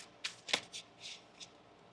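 Soft riffling and slapping of tarot cards being shuffled by hand, a few quick bursts spread over two seconds, close and quiet.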